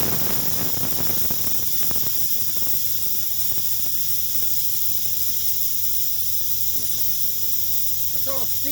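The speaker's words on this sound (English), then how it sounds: "That's all steam." An Instant Pot on quick release vents steam in a loud, steady, broadband hiss that runs the whole time, with faint clatter and a voice underneath near the start and end.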